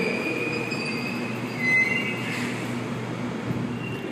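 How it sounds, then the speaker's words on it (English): A Sydney train at Circular Quay station rolls along the platform with a faint steady rumble and a thin high wheel squeal, heard alone from a short distance. "The next train to arrive on platform 2 is Campbelltown via airport service,"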